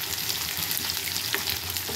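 Cashews fry in a pan while being stirred, making a dense, continuous loud sizzle with scraping stir sounds and no speech, close up.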